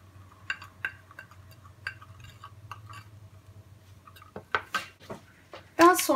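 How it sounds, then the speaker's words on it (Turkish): A spoon clinks and scrapes against a bowl while baking soda and tomato are mixed into a face mask, with scattered light taps and a few louder knocks near the end. "Bu şekilde hepsini karıştıralım."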